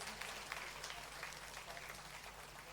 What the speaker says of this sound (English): A very big round of applause for all our winners and nominations.